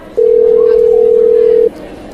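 A single steady electronic phone tone sounds for about a second and a half, loud and unbroken, over faint background murmur.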